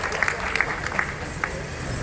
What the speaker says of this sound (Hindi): आप सभी से आग्रह है कि तालियों से इस मार्मिक अवसर को और समृद्ध बनाने की कृपा करें